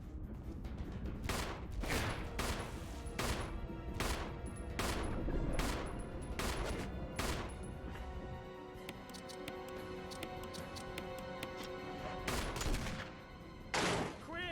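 Rapid gunfire in the 2002 Resident Evil video game, with dense bursts of loud shots repeating through the whole stretch and the player's voice talking over them.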